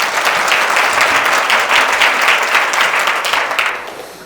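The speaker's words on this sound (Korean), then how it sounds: "우리 홍 총장님께 박수 한번 부탁드리겠습니다" A large audience at a university business forum applauds the university president, a loud, dense, sustained round of clapping that tapers slightly at the end.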